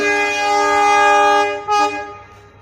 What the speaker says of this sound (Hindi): दोस्तों हमारी ट्रेन ने डिपार्चर हॉर्न दे दिया है